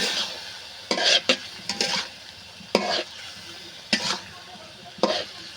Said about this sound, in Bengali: মাছগুলো একটু কষিয়ে নেব।